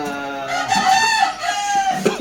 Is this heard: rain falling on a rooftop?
no